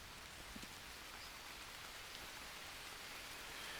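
Steady rain in the jungle survival game Green Hell, a faint, even hiss of falling drops with scattered soft patters, continuous and without talk.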